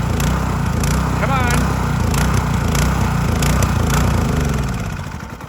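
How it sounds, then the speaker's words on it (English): A gas power washer engine runs steadily at a loud, close, chugging idle as it burns off its last fuel, then begins to sag and fade in the final second. "power washer's done for the year. I'm just letting it run itself out of gas."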